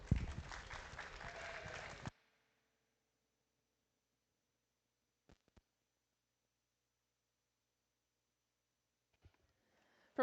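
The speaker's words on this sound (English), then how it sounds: "Let's show them a round of applause, if you would." A short burst of audience applause rings out at a junior livestock show's FFA and 4-H market lamb classes, loud for about two seconds before cutting to near silence with a few faint knocks.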